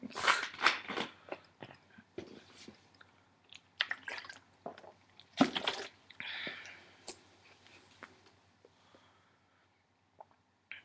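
Close, quiet drinking of ginger ale: scattered clicks, sips, swallows and a fizzy hiss, irregular and intimate, with no talk.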